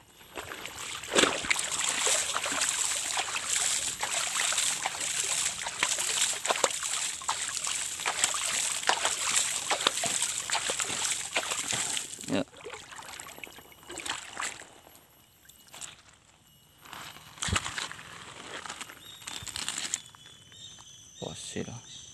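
Water is poured and splashes in bursts while searching for agate stones outdoors, with people talking quietly between the scattered splashes and trickles.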